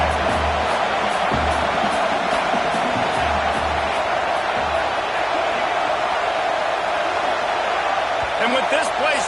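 Sustained stadium crowd roar at a football game during a 4th-down play, loud and continuous for the whole stretch with occasional thumps and swells near the end.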